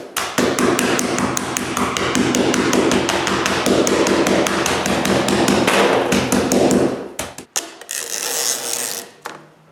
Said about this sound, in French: utiliser un maillet pour percer les pines de ce côté-là aussi